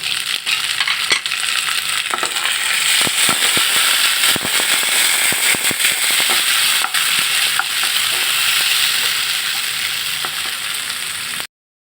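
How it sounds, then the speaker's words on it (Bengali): Chopped tomatoes hit hot oil with fried onions in a pan for a mola fish curry, giving a loud, continuous crackling sizzle with sharp pops and occasional stirring clinks, close and with no voices. "এবার আমি কুচিয়ে রাখা টমেটো দিয়ে দিব"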